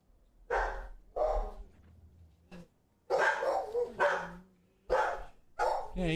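A dog barks repeatedly and close by, in loud separate bursts with short pauses between them, alone with no talk over it.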